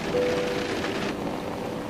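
Rain falls outdoors at night in a steady, even hiss of drops on surfaces, close and continuous for a brief moment.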